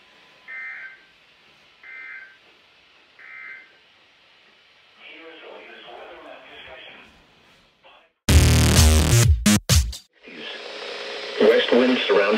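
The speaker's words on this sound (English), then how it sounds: "the warning alarm will be activated for hazardous watches and warnings" A broadcast Emergency Alert System test plays a loud, harsh warning alarm tone in a dense burst. Before it, three short beeps and a stretch of talk are heard, and a voice speaks again afterward.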